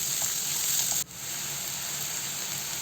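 Thick-cut onions fry in a pan for a dhaba-style mixed vegetable sabzi, a steady bright hiss of sizzling oil that briefly dips after a sharp click, then carries on evenly.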